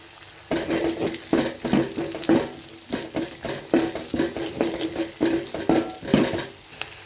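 Green chillies and curry leaves sizzle in hot oil for a Maula meen kulambu fish curry, a steady close crackle broken by repeated bursts of stirring, with no talk.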